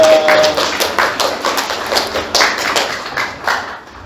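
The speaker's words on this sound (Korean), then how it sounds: "우리 하나님께 영광의 박수 올려드립니다" Congregation clapping during a Korean church worship service, a fairly loud rhythmic burst of claps at a steady beat that gradually thins and fades toward the end.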